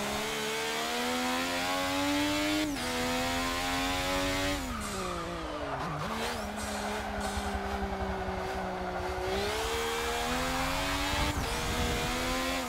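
A Formula 1 car engine in Forza 6 screams at high revs and bounces off the rev limiter. Its pitch dips and climbs again through shifts, with a constant loud whine under brief tire noise.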